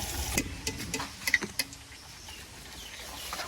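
Egg and chicken bread fries in a pan with a light sizzle broken by several sharp clinks and scrapes of a utensil early on, then a quieter steady crackle; no talk.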